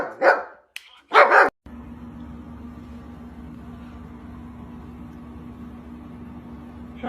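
A dog gives two sharp, close barks at a middle finger toy, then a steady low hum carries on for the rest of the clip.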